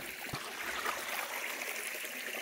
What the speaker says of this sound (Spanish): Este es el río Tejuicho.